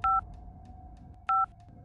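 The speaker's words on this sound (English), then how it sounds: "I ran back and got my phone, then left the house and called the police." Two clean touch-tone telephone dialing beeps sound about a second apart, each a short bright dual-tone blip, clear and alone against a faint low background.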